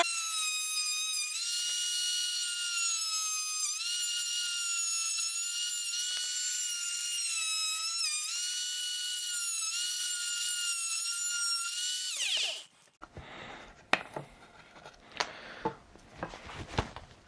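VARAN VAR MT-02-H oscillating multi-tool plunge-cutting into wood, a close, high buzzing whine that wavers under load for about twelve seconds, then stops, followed by handling clatter and knocks.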